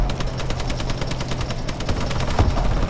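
Rapid automatic gunfire in the shooter game Call of Duty: Advanced Warfare, with a continuous stream of loud, close shots in a steady rattling rhythm.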